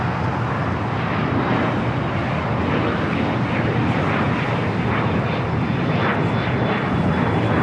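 An Air China Cargo Boeing 777 freighter rolls along the runway at LAX toward a turnoff, its engines giving a loud, continuous broadband roar that holds steady throughout.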